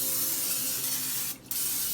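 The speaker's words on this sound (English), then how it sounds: "get out a glass baking dish, and we're going to spray that down with some cooking spray" Cooking spray hisses from a can into a glass baking dish, a steady close spray lasting over a second, briefly pausing and then resuming.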